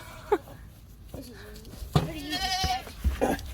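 A female goat in a herd bleats during a health check and hoof trim, a few close wavering cries with soft rustling and low background sounds between them.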